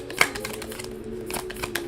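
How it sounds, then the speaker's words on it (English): A deck of tarot cards is shuffled close by, giving soft rapid riffles and light taps with music playing faintly underneath. "I ain't doing shit but shuffling the cards"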